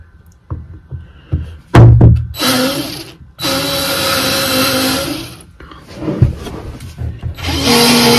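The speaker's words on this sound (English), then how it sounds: "So we're gonna try and drill out the dowel." A power drill bores out an oak dowel aboard a narrowboat, in several loud, sustained whirring bursts separated by short pauses and a few thumps, with no talking.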